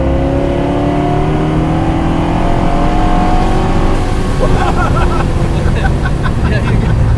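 An 800+ wheel-horsepower supercharged C5 Corvette accelerates hard on a runway, its loud engine note climbing steadily in pitch with supercharger whine, heard close from inside the car while occupants talk.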